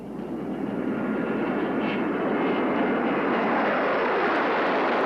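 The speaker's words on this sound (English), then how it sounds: "Trying to find and follow a low-flying 727, even with radar vectors" A low-flying Boeing 727 jet airliner roars overhead, its engine noise swelling to a loud, steady broadband rumble and rush that holds for several seconds.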